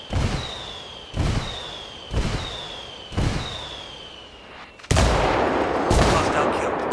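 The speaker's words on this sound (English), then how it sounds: "I called the rebels for some indirect fire" Rebel indirect fire barrage in the Ghost Recon Wildlands video game: four evenly spaced heavy booms, each trailing off with a whistling ring, then a louder, denser burst of explosive fire near the end.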